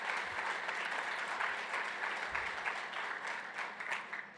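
Steady applause from an audience at a regional address, dense clapping that holds at an even level throughout with no voices on top.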